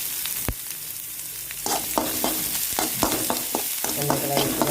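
A large onion frying in a pan for beetroot poriyal, a constant close sizzle with repeated spatula scrapes and stirring clatter throughout.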